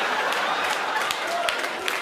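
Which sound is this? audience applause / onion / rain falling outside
audience applause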